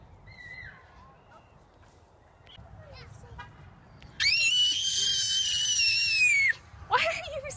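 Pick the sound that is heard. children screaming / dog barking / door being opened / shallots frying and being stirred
children screaming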